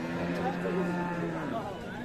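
A Sahiwal cow lows at the Aftabganj cattle market, one long, steady, fairly close moo that runs through most of the moment over faint crowd murmur.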